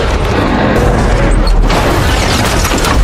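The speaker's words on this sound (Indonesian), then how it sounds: "mobil yang Marvin kendarai tiba-tiba meledak" A car explodes in an action film scene, a dense, loud, sustained roar of blast and crashing debris with heavy low rumble filling the whole moment, no voices.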